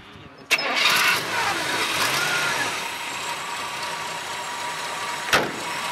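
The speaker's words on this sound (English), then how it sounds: "the motor sounds smooth and nice" A 1936 Ford pickup truck's engine starts with a sharp click and catches, then settles into a steady, smooth, close mid-pitched idle that runs for several seconds, ending with another click, with no talk.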